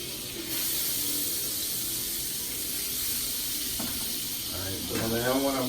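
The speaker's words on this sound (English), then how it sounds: "So listen to that sizzle." Steady, loud sizzling and hissing from fat in a hot pan, continuous throughout, with a voice starting near the end.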